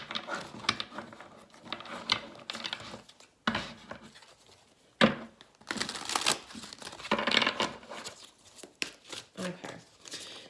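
Psychic Tarot for the Heart cards being shuffled by hand, with irregular papery riffles, slaps and soft crinkling bursts close up, while a voice talks quietly at times.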